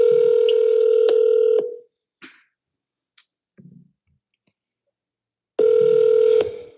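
Phone call ringing out: two long steady ringback tones about four seconds apart, with faint clicks between them and silence elsewhere.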